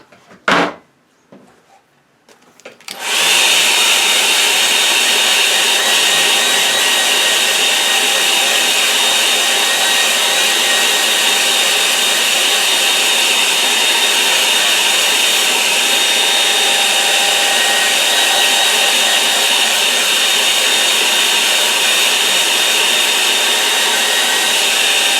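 Steady, loud hair dryer blowing on a wet watercolour painting of a lake, a continuous hiss-like roar starting after a few seconds of quiet handling clicks and running unbroken to the end.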